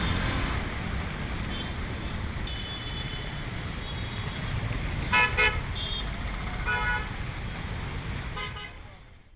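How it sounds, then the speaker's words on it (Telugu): Steady roar of heavy road traffic jammed in Hyderabad after heavy rain, with a couple of short horn toots near the middle, continuous and dense throughout before fading at the end. "ఎక్కడికక్కడ ట్రాఫిక్ జామ్ అవడంతో వాహనదారులు తీవ్ర ఇబ్బందులు ఎదుర్కొన్నారు."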